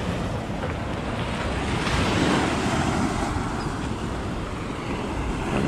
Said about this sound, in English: you're looking at the Atlantic Ocean right here.